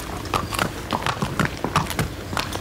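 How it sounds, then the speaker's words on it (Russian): Horse hooves at an Irish racehorse stud farm, a quick, clear clip-clop of steady hoofbeats at close range with no voices over them. "Этот белый конь – не чистокровный жеребец."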